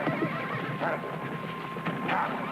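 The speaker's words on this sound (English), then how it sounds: "Hey, look, everybody. I got myself a wild horse." A horse neighs and whinnies in a 1970s western comedy setting, with hoof clip-clops mixed in, close and fairly loud over a busy background.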